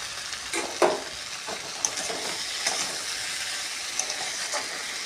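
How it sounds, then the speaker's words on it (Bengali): Potatoes and soybean chunks frying in a pan: continuous frying hiss with soft stirring scrapes and a few spatula taps against the pan, no voices. "আলুগুলো দিয়ে আমি ভালো করে কষিয়ে দেব"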